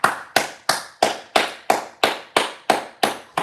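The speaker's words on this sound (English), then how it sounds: "Clap it up, man." Two hands clap in a steady, even rhythm, about ten sharp, close claps at roughly three per second, with no voices.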